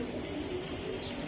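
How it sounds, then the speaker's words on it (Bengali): A Baga pigeon gives a soft, continuous coo, faint and steady, alone against a quiet background. "এটা বাগা কবুতর"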